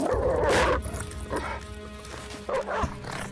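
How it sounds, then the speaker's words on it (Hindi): A dog barks in several loud, sharp bursts from somewhere inside a house. A couple of yips break the steady low background between barks. "घर में से कहीं से कुत्ते के जोर जोर से भौंकने की आवाज आने लगी।"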